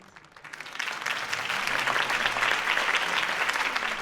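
Crowd applause for a campaign speech in the Batman Telltale video game, a dense steady wash of clapping that swells in within the first half second and holds loud throughout.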